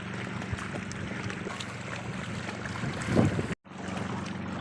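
A motorboat engine drones steadily at sea on a crabbing trip, with a low hum under wind noise and a brief dropout near the end.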